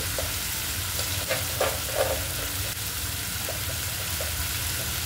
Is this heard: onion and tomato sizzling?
yes